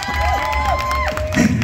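Crowd at a tattoo convention in Asheville cheering and clapping for a comedian, a continuous dense wash of applause with whoops and shouts, a tonal sliding whistle-like sound rising and falling above it.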